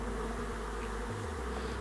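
Honey bees at the hive, a steady, dense, low hum of many wings, faint and continuous with no voices.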